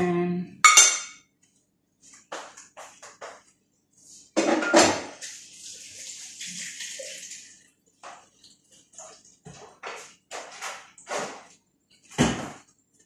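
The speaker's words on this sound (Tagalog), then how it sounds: "mix ulit natin guys yung saging saka yung raisin dito sa mixture." A spoon scrapes and clinks against a bowl while banana and raisins are folded into cake batter, in irregular bursts of knocks and scrapes separated by short pauses.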